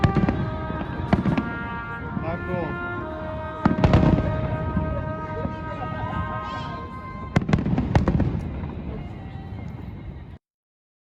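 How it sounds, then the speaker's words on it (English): Fireworks burst and crackle in loud, sharp clusters at a celebration, with several big bangs spread across the span while a person speaks briefly over them; whistling tones and a horse whinny also sound, and everything cuts off abruptly at the end. "they celebrated our arrival with fireworks"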